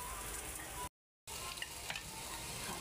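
Sardines fry with garlic in a pan and get stirred, a steady close sizzle with light scraping stirs, cut by a brief silent gap.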